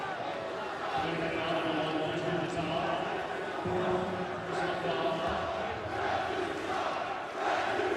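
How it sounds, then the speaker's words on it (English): A basketball arena crowd at a UConn Huskies vs Cincinnati Bearcats AAC Tournament semifinal roars and jeers the officials in a continuous, dense, surging din, with a commentator talking over it. "the crowd has been raining insults on the officiating crew here the last 10 minutes"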